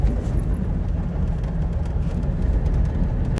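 Steady low rumble of a Subaru 360 van driving on a damp, moist day, heard from inside the cabin as continuous road and engine noise throughout, fairly loud with no talk.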